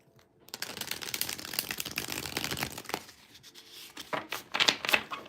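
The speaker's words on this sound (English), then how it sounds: "I am shuffling up your cards" Playing cards being shuffled close up in several rapid riffling bursts with brief pauses between, crisp papery flutters and snaps, no voices.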